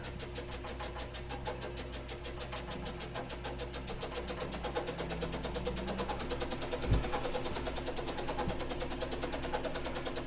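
Scroll saw running with its speed slowly turned up from about 400 RPM, giving a steady close mechanical buzz and rattle that rises gradually in intensity, with a single sharp knock near the end.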